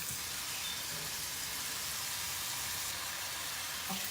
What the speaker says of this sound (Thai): เราก็จะทอดกับขิงแล้วก็กระเทียม